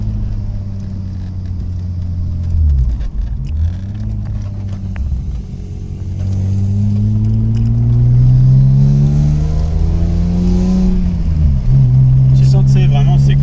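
A BMW M3 E36 engine revs hard while drifting sideways, its pitch rising and dropping through several climbs and gear changes, loud and close inside the car, with voices talking over it.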